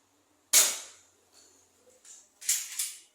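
Gunshots fire off the last bullets: one loud, sharp crack with a decaying tail, then after a pause two more quick cracks close together, near and unaccompanied by talk.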